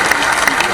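An audience at a regional industry conclave in Rewa claps in a brief, close burst of many hands, loud and steady.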